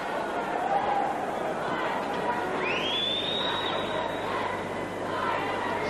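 Crowd murmuring in an ice hockey arena during a USSR versus Canada world championship game, a steady distant hubbub with a whistle-like rising tone midway.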